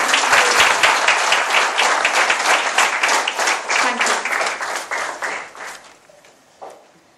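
An audience claps for Ayush at a wellness series event, a dense, loud round of applause that holds steady, then thins and fades out with a few last claps near the end.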